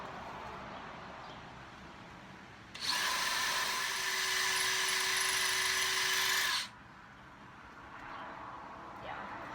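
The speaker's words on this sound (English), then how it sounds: "rotate between the holes that I'm drilling" A power drill whines steadily for about four seconds, loud and close, then stops, leaving quiet room noise before and after.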